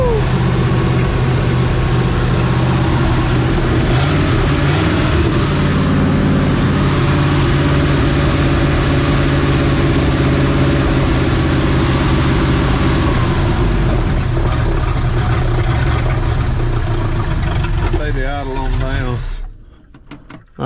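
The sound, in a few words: engine of 1968 Ford truck cranking and running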